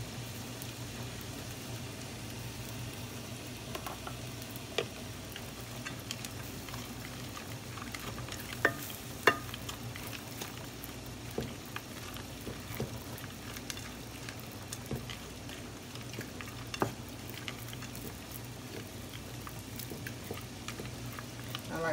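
Corn fries in butter in a pan with a steady, soft sizzle and scattered small pops and crackles. The sound is quiet and continuous, with no talking.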